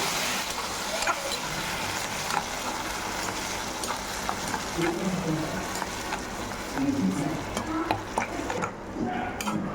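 Tomato paste made from about four ground tomatoes sautéing in a pan for bun masala, giving a steady close sizzle with repeated stirring scrapes throughout.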